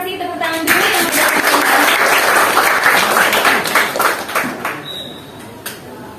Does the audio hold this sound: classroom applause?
yes